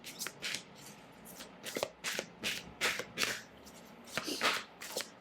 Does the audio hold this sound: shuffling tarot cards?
yes